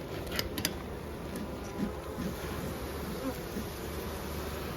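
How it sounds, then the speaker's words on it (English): Calm honeybees buzz around an opened hive, a steady close-up drone of many wings that continues throughout with no talking. "Look how gentle these bees are being."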